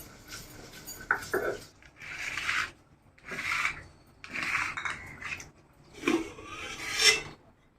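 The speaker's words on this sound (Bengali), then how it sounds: "আমি এখন পেঁয়াজ রসুনটা বাইটে নেব।" Onion and garlic are ground into a paste with about six separate rasping, scraping strokes in a steady rhythm, close up and fairly quiet, with short pauses between them.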